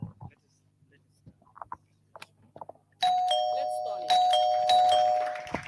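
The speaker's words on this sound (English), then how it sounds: "That is a doorbell." A doorbell chimes loudly after some quiet background speech, its ringing tones repeating and sustaining close by.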